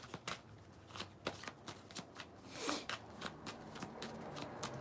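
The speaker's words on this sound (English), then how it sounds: "Let me shuffle again" A deck of cards is shuffled close up and quietly, a run of quick riffling bursts and soft taps in an uneven rhythm with no talking.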